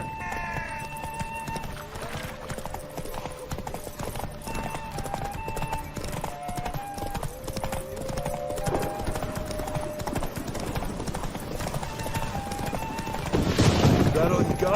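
Horse race in The Witcher 3 video game: rapid clip-clop of galloping hooves with neighs and a voice calling out, building to a louder rush of hoofbeats near the end.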